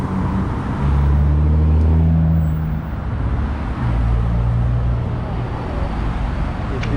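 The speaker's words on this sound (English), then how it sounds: "It is very noisy on West 4th, as you can hear, with all the cars." Steady car traffic along West 4th Avenue in Vancouver, with engines droning and vehicles surging past nearby, loud and continuous with rising swells as cars accelerate, with no talking.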